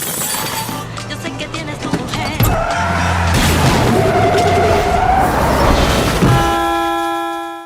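A truck skids and crashes over a spiked pipe in a TV drama scene: loud tire screeching and engine roar build, with a horn-like tone ringing out near the end.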